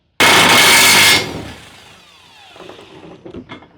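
Back bolt being removed from a through-frame slide rack arm on an NXG slide: a loud, sustained burst of mechanical rattling and grinding for about a second, then quieter metallic clicks and handling noises.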